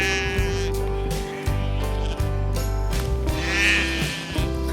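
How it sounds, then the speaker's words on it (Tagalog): Several sheep on Achill Island bleat close by, in repeated overlapping calls of varied length over a steady background hum, with no talking. "At ang ating mga tupa ngayon ay color blue."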